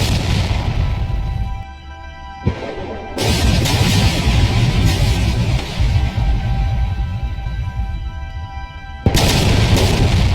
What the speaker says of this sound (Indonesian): Sehingga mobil meledak